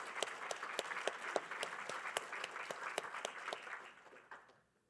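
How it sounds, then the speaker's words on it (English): A modest audience at a passenger rail summit session claps in applause, individual sharp claps standing out over a softer wash of hands, steady for several seconds before tapering off into quiet. "So a round of applause for these folks over here."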